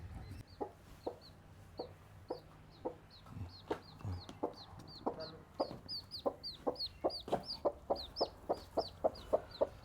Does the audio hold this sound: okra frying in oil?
no